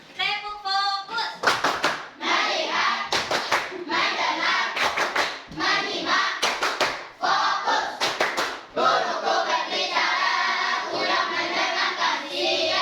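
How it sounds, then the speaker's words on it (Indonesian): A school class does a rhythmic focus-clapping icebreaker, groups of sharp synchronized claps in patterned bursts alternating with children chanting and a teacher's voice. "mari kita melakukan ice breaking tepuk fokus"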